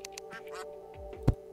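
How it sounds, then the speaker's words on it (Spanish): Soft duck quacks in the video game Terraria, a few short nasal calls scattered over quiet background game music, with one louder thump near the end. "¿Oyeron los patos?"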